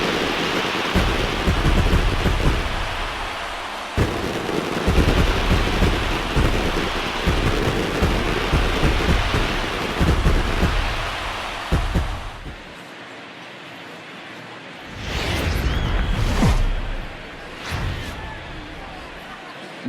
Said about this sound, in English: There is rain in the area